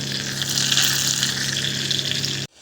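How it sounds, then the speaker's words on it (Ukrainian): Batter-dipped meat rolls frying in a pan, a steady close sizzle and crackle of hot oil that runs unbroken for over two seconds, then cuts off abruptly. "І обмакуємо в кляр і смажемо з двох сторон."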